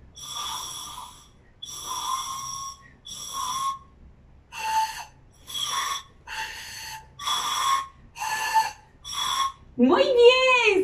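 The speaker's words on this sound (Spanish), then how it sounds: "son instrumentos de vientos improvisado en casa" Homemade wind instruments improvised from straws are blown one after another in repeated short, breathy, reedy toots with bright overtones, each about a second long and separated by gaps, ending in a wavering, bending squawk.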